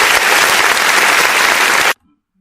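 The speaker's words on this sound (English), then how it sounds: "Clap your hands." Loud, dense audience applause at a comedy show fills the space steadily for about two seconds, then cuts off abruptly into near silence.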